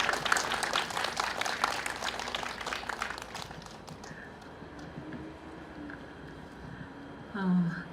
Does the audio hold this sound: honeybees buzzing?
no